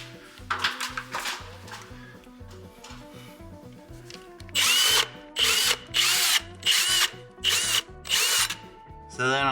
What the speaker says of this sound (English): a trick I use for when I'm drilling through a wall here